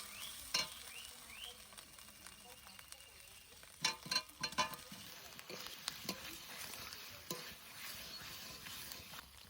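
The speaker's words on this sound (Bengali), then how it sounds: "এবারে সিদ্ধ করা আলু দিয়ে দেবো" Boiled potatoes frying with spices in a pan for a village-style meal, a steady low sizzle with a few sharp stirring clatters and scrapes, fairly quiet throughout.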